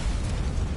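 A grenade explosion in the RoboCop video game on PS5, a short, dense, loud burst of noise with a heavy low-end rumble that fills the brief moment, with no voices over it.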